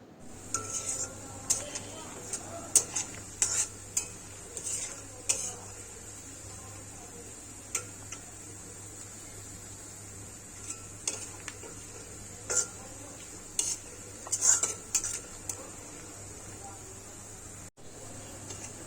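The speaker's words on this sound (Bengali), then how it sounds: "পেঁয়াজ কুচি দিয়ে আমি নাড়া দিয়ে দিচ্ছি" A spoon scrapes and clinks against a pan while chopped onions cook over medium heat for a shrimp dopiaze, intermittent stirring strokes over a soft background hiss.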